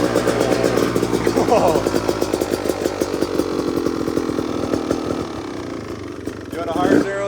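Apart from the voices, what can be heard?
Beta 350 RX 2-stroke motorcycle engine first start, idling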